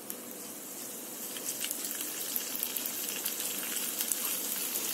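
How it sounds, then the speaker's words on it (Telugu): Vegetable Manchurian balls fry in hot oil, giving a soft, even sizzle dotted with small crackles and pops. The frying stays fairly faint and close, with nobody talking. "ఇందాక మనం ఫస్ట్ టైం తీసాం కదా బాల్స్, అవి వేసేద్దామండి ఇందులో ఆయిల్లో"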